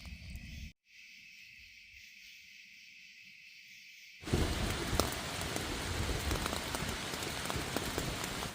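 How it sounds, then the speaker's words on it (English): After a quiet stretch, heavy rain suddenly starts drumming steadily on a tent overhead in the Quehanna wilderness, dense and close. "I think we got some rain coming."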